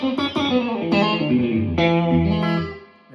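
B-bender Telecaster-style electric guitar on its humbucking pickup setting, playing a short run of notes and a sustained chord with effects and some drive, ringing out close and alone before decaying.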